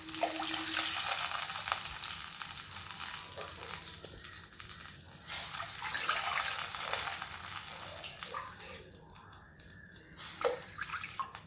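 Water poured into a pot while making jeera rice (cumin rice), a steady broadband splashing and trickling that runs throughout at moderate level, with no talk.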